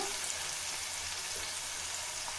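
Raw banana pieces frying in oil in a non-stick pan, giving a continuous, even hissing sizzle that stays steady and close throughout.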